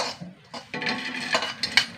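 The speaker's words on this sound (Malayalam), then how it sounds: "ഉണക്കമുളക് ചെമ്മീനും വറുക്കുകയാണ്." Dried red chilies and dried shrimp are dry-roasted in a pan without coconut, heard as close metallic scrapes and clinks of a utensil against the pan in several irregular bursts.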